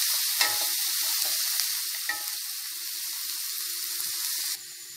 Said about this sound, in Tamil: இஞ்சி பூண்டு பேஸ்ட்டு சேர்த்திக்கலாம். இது நல்லா ஃப்ரை ஆகட்டும்.